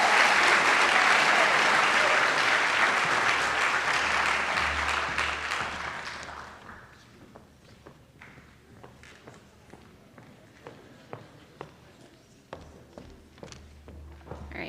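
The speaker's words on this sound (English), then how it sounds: "could you guys please help me give a round of applause for Lois" A high school senior recognition night audience applauds for a teacher named Lois, a loud, full burst of clapping that fades after several seconds into scattered thuds, taps and footsteps in a quieter room.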